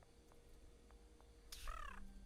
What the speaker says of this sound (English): I believe a bird on the roof was speaking, but I don't understand what it said.